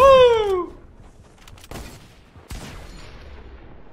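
Fortnite gunshots ring out at the World Cup Finals match as sharp, separate cracks after a falling, whistling tone. The shots sit fairly close against a quiet background.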